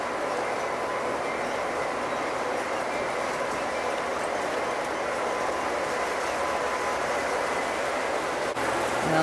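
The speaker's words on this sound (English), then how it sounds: "Now the freight train is about to come up here through Raton Pass." A Lionel model freight train with a caboose rolls steadily along its track toward Raton Pass, giving a continuous even rumble and hiss at close range for several seconds, with no voices.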